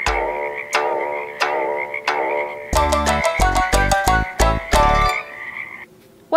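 The sung Japanese children's tune "Kaeru no uta" imitating frog croaks, with repeated rhythmic "gua gua" and "gero gero" croaking calls and a bouncy accompaniment, loud and close.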